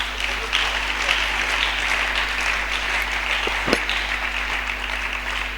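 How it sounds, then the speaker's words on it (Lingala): A church congregation at a youth service closing claps together in a broad, even wash of applause at moderate level, with a low steady hum beneath and a sharp knock near the end. "On acclame pour cette belle parole."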